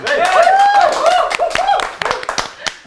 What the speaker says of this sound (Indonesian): aku minta tepuk tangannya